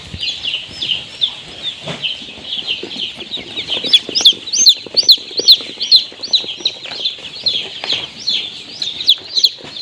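A crowd of Black Australorp chickens on a poultry farm clucking and chirping continuously, many birds close together, with busy overlapping calls that rise and fall.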